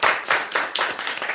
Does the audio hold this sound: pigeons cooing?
no